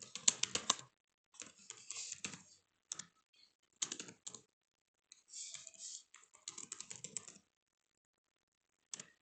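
Bursts of typing on a computer keyboard while editing a line in the VI editor, quick clusters of close key clicks separated by short silent pauses, fairly quiet, no talking.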